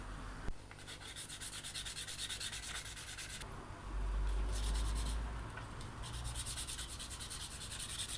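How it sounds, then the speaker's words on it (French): A handmade flat-tang knife being sanded by hand, with steady rhythmic back-and-forth rasping strokes, close and continuous, growing briefly heavier midway. "ponçage à la main"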